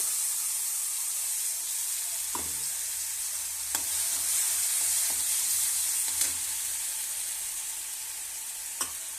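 Onions frying in a pan with curry leaves for an onion chutney, a constant close hiss of hot oil broken by several crisp clicks and ladle taps spaced a few seconds apart, no voices.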